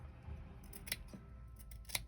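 Scissors trimming stray fabric threads on a hand-stitched needle keep, a few quick, crisp close snips over a quiet background, with no talking.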